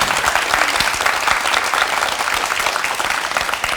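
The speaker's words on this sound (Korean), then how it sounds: "여러분 정말 크게 성공하시라고 우리 행복하시라고 응원의 박수 좀 부탁드리겠습니다" A studio audience gives steady, dense applause of many hands clapping together, loud and sustained with no break throughout.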